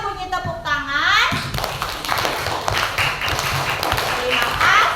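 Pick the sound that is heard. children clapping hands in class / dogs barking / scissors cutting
children clapping hands in class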